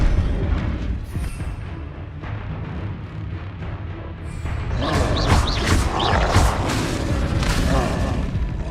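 Spell blasts from a Bombarda cast in Hogwarts Legacy on PS5 land as heavy booms and crashes within a busy, loud stretch of combat, with a bright burst of impacts in the second half.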